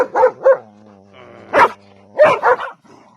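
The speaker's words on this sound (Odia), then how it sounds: "କଣ ମତେ ଭୁକୁଛୁ କଣ ବା" A medium-sized pet dog of about 20 kilograms barks and yips in short sharp bursts, close and loud, with a thin whine between barks.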